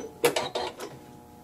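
A sewing machine finishes a short run of quilting stitches on a quilt block: four quick mechanical bursts in about half a second, then quiet.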